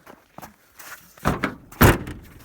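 A door is pushed shut in a snowy village: a few light knocks and rattles, then two heavy thuds, the last and loudest closing it firmly, heard close by without speech.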